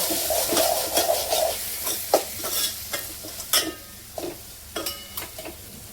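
Onion-garlic masala, sambar masala and salt being stirred and sautéed in hot oil for a Vidarbha-style dal bhaji, with a soft sizzle under repeated scrapes and stirring knocks of a spoon in the pan, close and steady.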